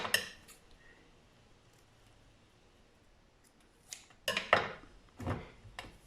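Scissors cut through thick string, giving a few close, crisp snips clustered toward the end after a quiet pause, with a faint rustle at the start.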